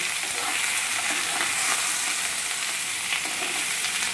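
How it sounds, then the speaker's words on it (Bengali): Bottle gourd pieces and potatoes fry in oil in a wok, making a loud, dense, unbroken sizzle close by, with faint stirring beneath it. "আলুটা তেলের মধ্যে একটু নাড়াচাড়া করে নিয়ে কড়াইতে দিয়ে দেওয়া হলো কেটে রাখা লাউয়ের টুকরোগুলো।"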